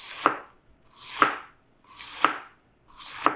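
Cabbage sliced thinly with a knife on a cutting board, four evenly spaced crisp cuts, each a short crunchy swish ending in a sharp knock of the blade on wood, close and clear.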